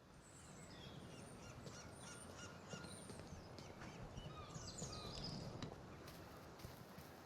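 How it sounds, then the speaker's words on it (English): Birds in a park in the video game Broken Pieces, with repeated goose-like honks and calls over a soft steady outdoor background, heard faintly with no talk. "Amongst birds living in the park"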